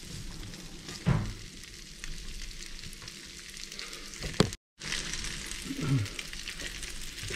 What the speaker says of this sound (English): So this all is sauteed together a little bit